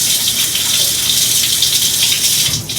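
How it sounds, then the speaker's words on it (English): Tap water runs steadily in a kitchen as hands are washed, a close, loud, continuous gush that shifts slightly near the end. "let me wash my hands after I've touched pork"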